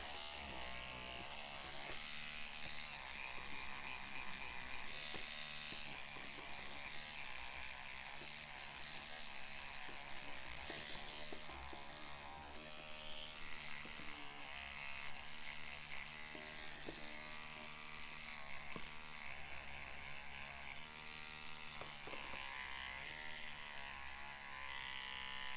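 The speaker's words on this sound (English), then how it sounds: "This is my old electric toothbrush, or battery powered toothbrush" Battery-powered electric toothbrush buzzing steadily and continuously, close and fairly loud, with a dense mechanical hum that holds throughout with no talking.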